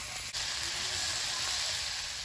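Vegetables fry in spice paste in a pan, giving a loud, close, continuous hissing sizzle that stays steady throughout, with no talking over it.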